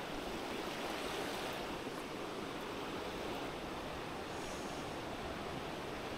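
Steady broadband rushing of flowing water, continuous and even throughout, with no voices, like a small stream close by.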